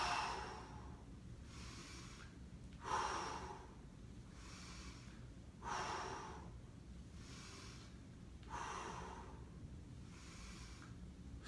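Four strong exhalations during split squat exercise, each a breathy whoosh spaced about three seconds apart, close and alone with no talking.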